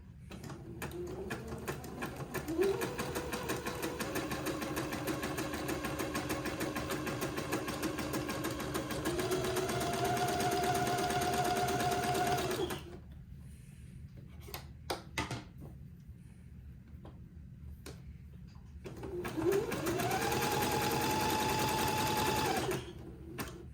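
A sewing machine zigzag-stitches along the curved edge of a smocked bonnet, running in a steady close mechanical whir with shifting pitch, stopping briefly midway, then starting up again for a second run.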